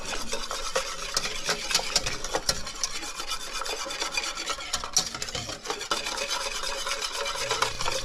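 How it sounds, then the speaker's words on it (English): Steady rasping and scraping of a whisk stirring thick plantain porridge in a pot, continuous and close for the whole stretch with no voices. "I'll use a whisk at this point"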